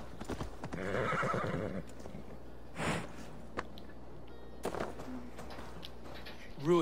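A horse whinnies loudly in the video game Assassin's Creed Valhalla, followed by scattered hoof clops and a snort, with quiet stretches between the sounds.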